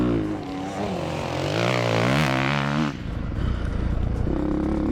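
Kove 450 dirt bike engine revving nearby, a loud rising whine that climbs in pitch, cuts off sharply, then drops to a rough lower idle.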